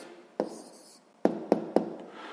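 A pen writes an answer in a sixth-grade maths exercise, heard as a few short, crisp taps and scratches against paper, close and isolated, one after a pause and then three in quick succession.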